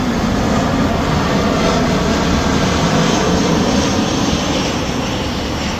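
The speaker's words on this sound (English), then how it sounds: "let this plane pass real quick." An airplane passes overhead outdoors, a steady broad roar of engine noise that holds loud and even for several seconds, with no talking over it.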